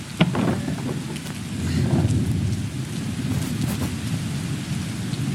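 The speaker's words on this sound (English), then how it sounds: "A nice cool rain has come up." A stage rain effect in a play pours down as a steady, even hiss, while a deep thunder rumble rolls underneath and one sharp crack lands near the start, all without any voices.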